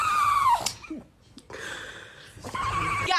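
A small Pomeranian dog gives short, close yelps and whiny barks in two bursts separated by a quieter pause, with a faint whimper in between.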